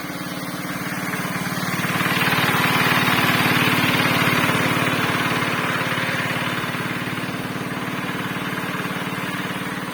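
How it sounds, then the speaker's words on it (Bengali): A shallow tube-well irrigation pump engine runs steadily beside a mulched chili field, a loud, continuous mechanical drone with a rapid throbbing beat that swells slightly in the middle and holds throughout, with no talk over it. "এখানে আমাদের স্যালো চলতেছে"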